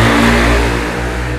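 Engine of a W126 Mercedes-Benz S-Class revving loud and steady up close, a sustained low drone that eases slightly toward the end, with no talking over it.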